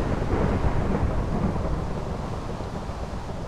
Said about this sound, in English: I'm gonna call it thunderstorm. Thunderstorm! Did it. Oh my God, it starts raining and everything.